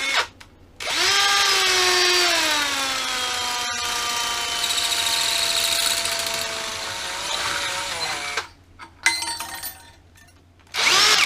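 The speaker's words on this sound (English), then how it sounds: "I've got to do it by hand because I can't get it in a vertical drilling machine, and I'm just going to drill through" A handheld power drill bores through a brake drum, whining loudly and up close with a pitch that drops under load, pausing briefly mid-cut, then stopping and starting again near the end.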